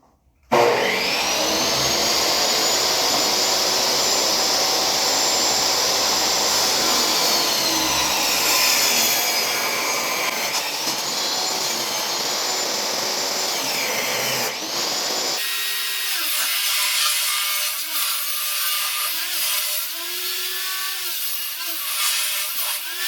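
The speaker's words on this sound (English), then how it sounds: "Got the saw plugged up." Power saw cutting a wooden board while building a wooden door: a steady, loud whining motor with a rising cutting roar, then the blade spooling down to a thinner hum toward the end.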